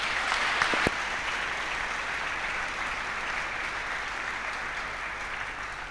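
A church congregation applauding during a sermon, a dense, sustained wash of clapping from many hands that stays even and fairly loud throughout.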